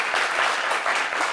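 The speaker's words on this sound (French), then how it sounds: "Ah, applaudissez mon plateau." An audience claps for the guests of a TV talk show, a brief burst of dense applause that stays even throughout.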